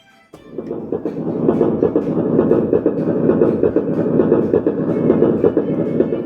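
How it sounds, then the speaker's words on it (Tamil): An electronic keyboard's train sound effect plays loudly, a steady rumble with a rhythmic clickety-clack beat, clearly synthetic and alone. "அப்புறம் ட்ரெயின் எல்லாம் போகிற மாதிரி சத்தம் கேட்கும்."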